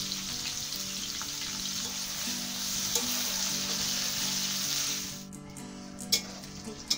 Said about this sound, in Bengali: পেঁয়াজগুলোকে কড়াই তুলে দেওয়া হয়েছে।